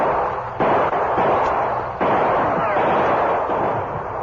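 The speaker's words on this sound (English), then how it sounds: "The outlaws were between Bert's gunfire and that of the Lone Ranger and Tonto." Gunshots in a Lone Ranger radio drama shootout with outlaws caught in the open, blank-loaded guns mentioned; dense, loud, reverberant bursts of gunfire fill the whole stretch with several sharp onsets.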